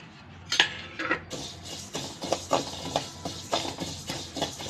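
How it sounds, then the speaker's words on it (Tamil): Sesame seeds roasting in a hot kadai on a stove, giving repeated light clinks and taps of stirring against the pan, close and moderately quiet, with a soft crackle underneath. "பாருங்கள், எள்ளு நல்லா பொரியுதுங்க"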